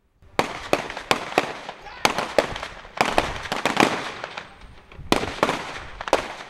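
Rapid volleys of sharp gunshots crack out in irregular bursts during a shootout between police officers sheltering behind their vehicles, a dozen or more, loud and echoing, with no talking.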